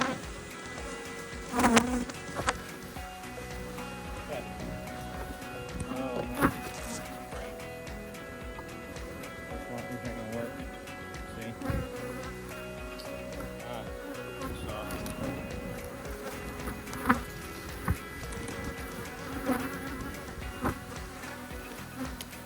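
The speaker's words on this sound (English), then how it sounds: "The bees are angry, my friends." A dense, continuous buzzing of many angry honey bees surrounds the listener at close range during a honey harvest, steady and agitated, with occasional sharp bumps and clatter of handling hive frames.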